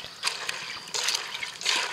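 Chopped walnuts, about five and a half cups, tipped into a pot of water for an autumn khaki-brown natural dye, giving three short, close splashing and sloshing bursts of liquid with quiet gaps between them.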